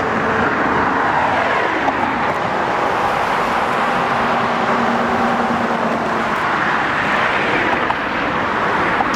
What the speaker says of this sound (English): that one we got trucks going in both directions